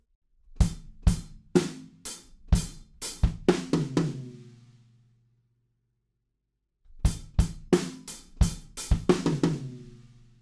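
A drum kit plays a fill twice: rapid punchy hits of snare and toms in a tight burst, ending with cymbal decay, a pause, then the same fill repeated.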